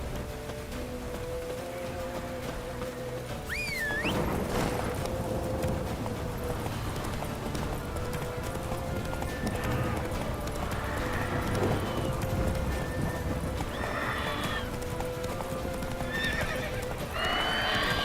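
Roach the horse gallops with rapid, loud hoofbeats in The Witcher 3, letting out a sharp neigh early on and more whinnies later amid the pounding run.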